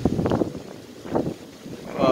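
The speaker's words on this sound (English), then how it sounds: "Oh, it's windy" Outdoors near a cherry tree in London, wind buffets the microphone in a few low, rumbling gusts, with a voice talking faintly alongside.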